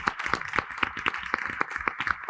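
A small audience at a Mahwah board of education meeting claps together for an introduced school staff member, producing a steady run of crisp, closely spaced hand claps at moderate volume, with no talk over it.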